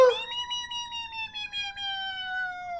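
A cat piano toy sounds a sustained, slightly falling electronic meow tone as a key is pressed, steady and fairly clear at close range with no talking over it.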